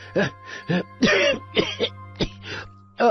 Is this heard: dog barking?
no